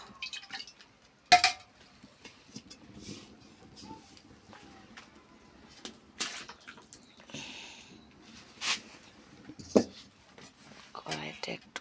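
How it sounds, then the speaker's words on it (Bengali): A metal kadai (wok) being washed: quiet scattered clinks, knocks and water splashes, with a few sharper metallic hits and soft speech in the background. "কড়াইটা একটু ধুবো"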